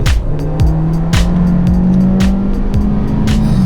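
A 2021 Kia Soul GT Line Turbo is driven hard in sport mode with paddle shifters, its engine climbing loudly through repeated quick upshifts, each rise in pitch cut by a short drop, heard close up from inside.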